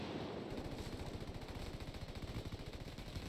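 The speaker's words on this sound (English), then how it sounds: "I'm opening fire on these shitheads." Machine gun fire in Ghost Recon Wildlands sounds as a sustained, rhythmic burst of fast automatic shots, steady and moderately loud, heard by itself without talk.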